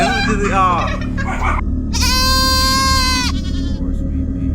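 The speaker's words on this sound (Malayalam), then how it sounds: "ആട്" A goat bleats loudly nearby in drawn-out, wavering calls, one long bleat standing out, over a low rumbling background.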